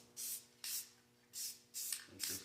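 Aerosol spray paint hissing onto a DIY transmission cross member for a 1959 Ford F100, in five short close bursts separated by brief pauses, the last two quicker and rougher.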